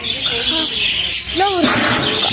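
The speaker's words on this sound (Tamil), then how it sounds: "ஒரு சில சவுண்ட்ஸ் எல்லாம் இருக்குன்னா பேர்ட்ஸ் இருக்குல்ல பாருங்க எவ்வளோ பேர்ட்ஸ் இருக்குங்க" Several birds chirp and call outdoors in quick, high tweets, one clearer rising call standing out near the middle, with a person speaking over them.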